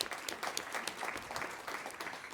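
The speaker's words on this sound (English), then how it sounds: "I think that was really worth a clap on its own." A conference audience applauds after a speech, a steady wash of many hands clapping at moderate distance, fairly soft and even throughout.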